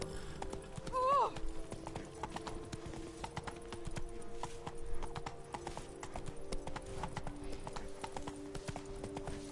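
Roach the horse in The Witcher 3, hooves clip-clopping at an even, steady walking rhythm throughout, fairly faint, with a brief whinny early on.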